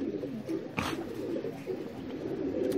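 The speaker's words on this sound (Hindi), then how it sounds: "ये भी टैडी कबूतरों का एक बच्चा निकला हुआ है" Pigeons in a breeding loft with young birds coo softly and repeatedly, a low steady burbling close by, with one brief sharper flutter-like sound near the start.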